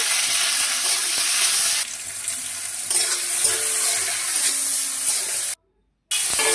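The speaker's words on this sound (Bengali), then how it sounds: "এরপর তেলের ওপর কালো জিরে ফোড়ন, লঙ্কা কুচি, ক্যাপসিকাম কুচি, টমেটো কুচি, সামান্য নুন" Nigella seeds, chopped chili, capsicum and tomato fry in hot oil with salt for a potato curry, giving a loud continuous sizzle with stirring scrapes that dips briefly and cuts out near the end.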